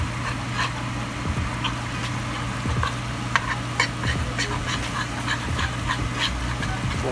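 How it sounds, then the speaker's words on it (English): Flour cooking down in oil and butter for a blonde roux, a steady soft sizzle with faint stirring and scraping throughout, close and even. "Going to cook this flour down in this oil, butter."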